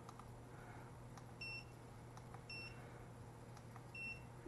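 A Jepwco G4 Pro anti-spy bug detector gives three short, high electronic beeps spaced about a second apart over faint background hiss.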